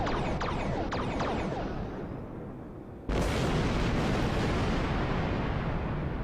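Star Trek Online orbital bombardment explosions: a dense, roaring wall of blasts with crackling debris, fading slightly before a sudden loud boom reignites the continuous rumble.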